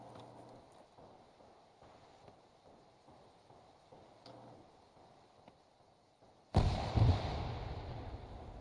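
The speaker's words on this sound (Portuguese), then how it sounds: "Tiro de longe." A single distant gunshot in the video game Arma 3 cracks out suddenly after a long stretch of quiet ambience, leaving a rolling, echoing tail that fades slowly.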